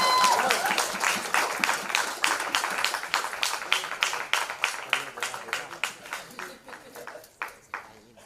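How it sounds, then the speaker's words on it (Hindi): Loud applause from a crowd at a press conference for a music show, dense sustained clapping that gradually thins into scattered claps and fades near the end. "जोरदार ताली"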